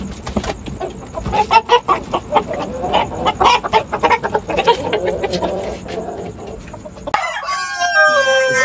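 Hens cluck busily close by, then a rooster lets out a loud, drawn-out crow near the end.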